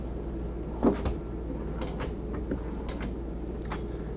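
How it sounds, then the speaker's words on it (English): Short clatter and slide of a silverware drawer in a Renegade Ikon 3400 motorcoach kitchen, then a few faint ticks and light knocks over a steady low hum. "So we've got the silverware drawer here, and then slided away, more silverware storage."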